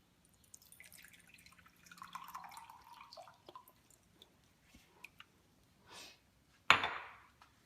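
Water poured from a can for a chemistry gas-law experiment trickles and drips in short quiet bursts, followed by a louder splashing gush near the end.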